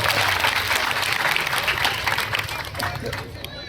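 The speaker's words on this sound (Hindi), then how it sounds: "जोरदार ताली से अभिनंदन करा" A crowd at a political event gives the organisers loud, dense applause that stays steady throughout and fades slightly toward the end.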